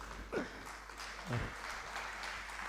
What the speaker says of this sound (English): Let's welcome him with a big round of applause